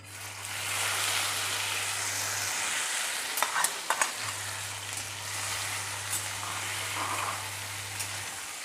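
Gunda (glue berries) frying with a pinch of asafoetida in a pan, a steady close sizzle with a few clinks of a spoon stirring partway through, no one talking.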